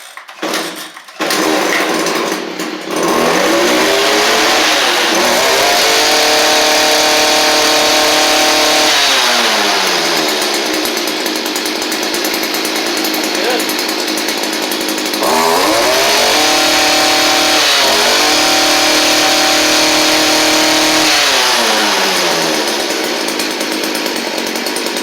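A Stihl string trimmer fitted with a new Hipa carburetor, choke pushed in, sputters through a few start attempts, then catches and runs loud and close, its two-stroke engine rising and falling as the throttle is blipped.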